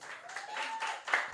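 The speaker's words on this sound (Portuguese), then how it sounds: "Palmas a Deus pela vida do Wallace" Brief burst of congregation clapping during a church sermon, a short wash of hands together with a faint sustained tone behind it, ending after about a second.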